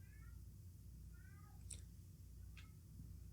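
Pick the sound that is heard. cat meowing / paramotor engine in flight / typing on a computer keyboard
cat meowing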